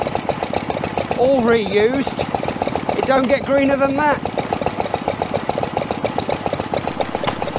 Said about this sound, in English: there is a homemade generator made with a car alternator